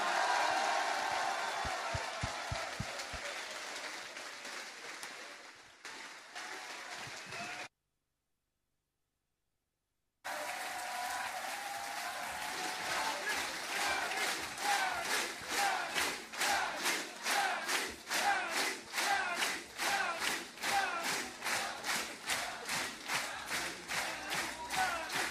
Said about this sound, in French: Je vous invite à acclamer Yanis Varoufakis.